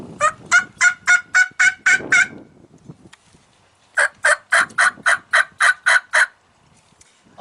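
A cheap beginner's turkey hen call imitating a young hen, sounding two loud, close runs of about eight evenly spaced yelps each, separated by a short pause, with no talking.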